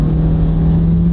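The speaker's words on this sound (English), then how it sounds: "You see it revs high, and it takes off." A Honda with a CVT transmission revs high under full throttle in passing gear, a loud, steady engine drone holding one pitch from close inside the car.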